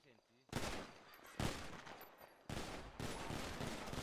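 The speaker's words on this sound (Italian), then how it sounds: "Stanno sparando, ragazzi, stanno sparando" Gunfire in an online roleplay shooter game erupts in loud dense bursts, sharp rattling volleys that stop and restart several times in quick succession.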